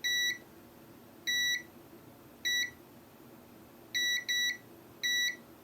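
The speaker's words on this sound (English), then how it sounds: "put it into continuity mode, which is the mode that beeps when we have a full circuit" A multimeter in continuity mode beeps in short, sharp electronic tones, six beeps with two close together, while probing a damaged Nintendo Switch circuit board in a quiet room.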